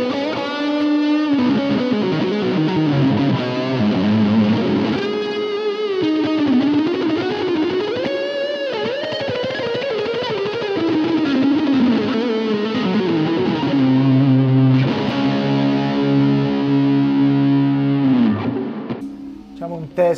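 A distorted electric guitar roars through a valve amplifier at home, playing fast shred lines with sustained bends and slides, then rapid repeated picked notes near the end, loud and close with no talk.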